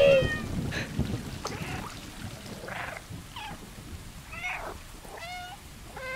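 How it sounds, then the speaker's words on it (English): Several cat meows and chirps from the video game Stray, spaced through the stretch over a soft continuous rumbling purr and low background noise, fairly close. "You can hear me purr."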